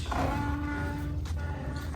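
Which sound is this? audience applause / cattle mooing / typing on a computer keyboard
cattle mooing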